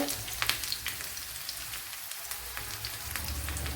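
Shallots sizzle steadily in hot coconut oil with mustard seeds, a close, even hiss of frying with small pops and crackles running through it, no voices.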